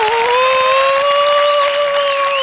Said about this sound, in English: Some more applause. One more time.